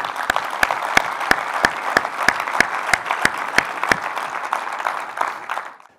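A conference audience at hotelNEXT 2016 applauds the competing teams, a steady close roar of clapping lasting several seconds before fading out at the end, with no speech over it.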